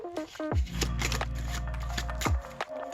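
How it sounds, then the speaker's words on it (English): A deck of playing cards is shuffled by hand during a card trick, giving a crisp, close riffle that runs for a couple of seconds, bracketed by a few sharp taps of the cards settling. "and give it some shuffles"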